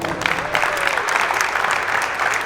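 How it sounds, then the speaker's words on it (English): An audience at a youth sports camp award ceremony claps steadily for an honoree, a dense wash of hands that stays even and fairly loud throughout, without speech. "Let's give applause to Juan Cardona."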